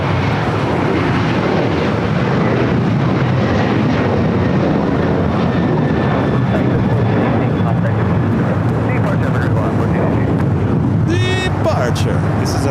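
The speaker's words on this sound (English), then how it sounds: "Departure. This is Alaska 1418 going to Guadalajara." Alaska Airlines jet departing Los Angeles International Airport, a loud broad roar of jet engine thrust filling the whole stretch, with wind buffeting the microphone and people chatting over it.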